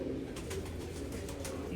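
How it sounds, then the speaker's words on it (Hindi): Several pigeons coo softly in a loft, a steady low murmuring with some faint rustling above it, no voices. "जो बड़ा कबूतर है 10 नंबर"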